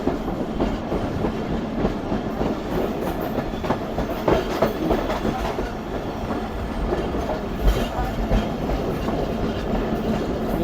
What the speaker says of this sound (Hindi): पहले यहाँ से ट्रेन राइट कर्व लेगी, उसके बाद लेफ्ट कर्व लेते हुए